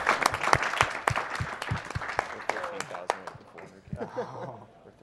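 Scattered clapping from a small group at a live speedrunning charity marathon (AGDQ 2014), mixed with lively chatter and laughter, fading toward the end.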